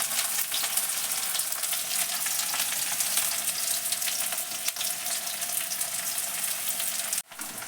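Loud, steady frying sizzle from onions cooking in a pan as ridge gourd goes in, a continuous hiss throughout with a brief thump and dip near the end.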